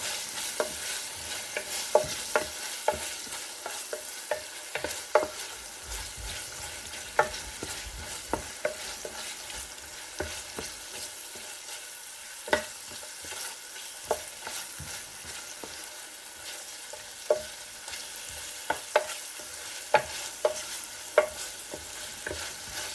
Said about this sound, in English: Fry these for about 3 minutes until your kitchen is filled with a captivating aroma